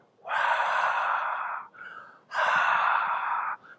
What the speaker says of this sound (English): if you're exercising, practice ujjayi breathing